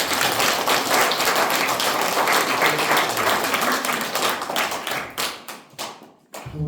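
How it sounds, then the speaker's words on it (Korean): Crowd clapping at a political rally, dense and close at first, then thinning into scattered individual claps toward the end. "박수 한번 치고."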